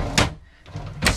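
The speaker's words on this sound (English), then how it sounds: "6 deep drawers." A deep drawer in a 2004 Monaco Diplomat 40-foot Class A motorhome interior thuds twice, two short close knocks about a second apart with a soft sliding rustle between, no talking.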